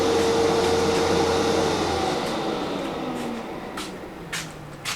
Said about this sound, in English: So we'll turn on our central vac, central dust collection.